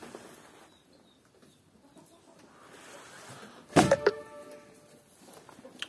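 Adler breed chickens in a quiet farmyard, mostly soft background rustle until a short burst of loud clucking and squawking rises near the middle, then fades to scattered faint sounds.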